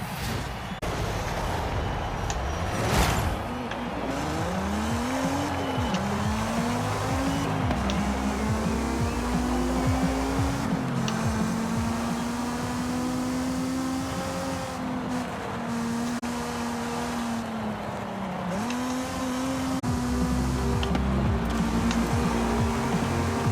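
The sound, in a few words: car engine during hot lap in Forza Horizon 5 video game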